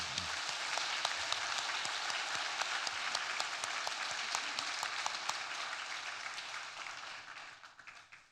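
A large church congregation at an Easter service applauds steadily for several seconds, dense clapping that holds even and then fades out toward the end.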